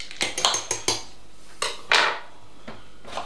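A jug of Pimms with strawberries being stirred, giving a quick run of clinks and knocks, then a scraping swirl and a few more scattered taps, close by with no one talking.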